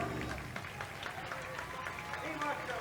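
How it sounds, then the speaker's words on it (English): Race fans at Silver Spring Speedway clap from the grandstand during a sprint car heat, a faint, scattered patter of applause heard at a distance beneath an announcer talking. "And the fans are clapping."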